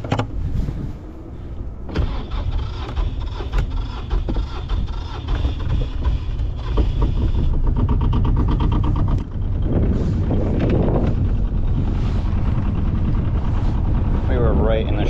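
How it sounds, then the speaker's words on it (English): A boat engine on the Jersey Shore is started and then runs as a steady, loud, close drone for the rest of the stretch. "Let me go turn on the engine."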